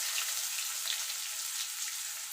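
Peeled hog plums fry in a mustard seasoning for a sour dal, giving an even, bright crackling sizzle that holds steady throughout without any voice.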